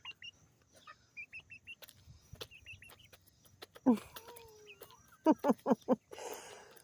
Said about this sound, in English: Is that a big chicken noise you made?